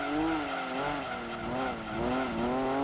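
Unwieldy Datsun race car driven in the Gran Turismo 2 video game, its engine holding a loud, steady buzzing drone that wavers up and down in pitch with throttle changes, with no talking.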